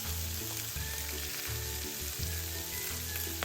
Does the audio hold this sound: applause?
no